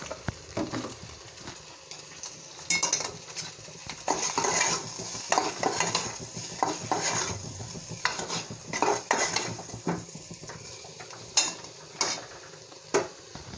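Potato stir-fry seasoned with salt being stirred in a pan, with a spoon scraping and clinking against the metal in irregular strokes over a soft sizzle, close by.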